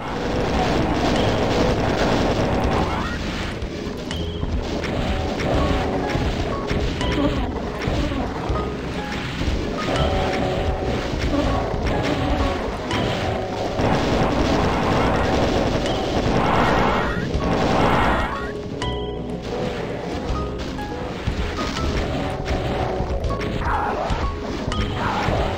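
Rocket explosions in a video game form a loud, dense barrage of crashing blasts and roaring noise that keeps going with little letup.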